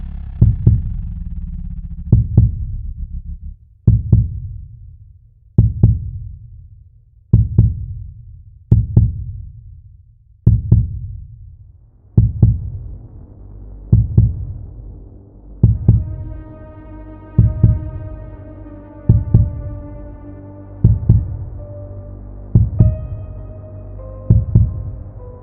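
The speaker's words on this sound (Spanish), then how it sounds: "Ese es el latido de su horrible corazón." Heartbeat sound effect in a Spanish-language audio drama of The Tell-Tale Heart: deep, heavy thumps in a steady slow rhythm, loud and close, with a rising droning tone building beneath them toward the end.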